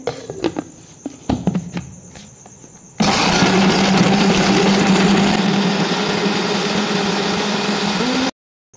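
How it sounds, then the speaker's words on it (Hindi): A mixer grinder blends tomato purée with chilies for a chili garlic ketchup, starting with a few clicks and clatters before the motor kicks in with a loud, steady whirring grind for about five seconds and then stops abruptly. "अब हम इसको अच्छी तरह ग्राइंड कर लेंगे"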